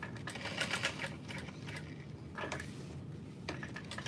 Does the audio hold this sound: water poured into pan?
no